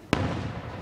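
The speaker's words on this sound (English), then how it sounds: "Nice place for the fireworks." A single firework bursting at a Fourth of July display in a neighborhood, one sharp loud bang followed by a rumbling echo that fades out.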